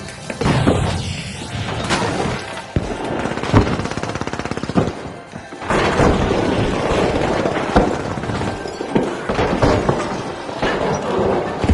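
Gas grenade thrown in The Finals video game, set off amid loud, continuous gunfire and crashing impacts that run through the whole stretch, with dense bursts and thuds throughout.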